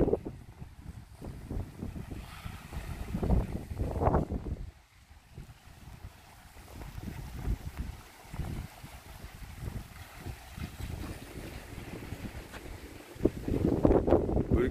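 Wind blows steadily over open water beside a seawall lookout, with gusty rumbling buffets on the microphone and soft rippling waves underneath, fairly loud throughout with no talk.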